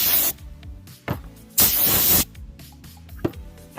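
Compressed air blows dust off a freshly sanded surface in several short hissing bursts, the longest lasting under a second, separated by quiet gaps.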